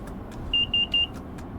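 Cab alarm of an ALP-45DP locomotive in Train Sim World 6, three short high-pitched electronic beeps in quick even succession over a low rumbling cab background.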